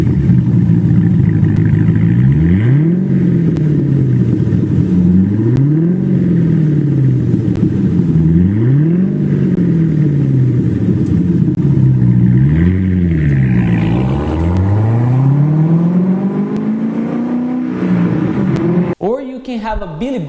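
A Corvette's V8 engine with an aftermarket exhaust revs repeatedly, rising and falling in loud, throaty pulses over a deep idle rumble, with a sharp click near the end.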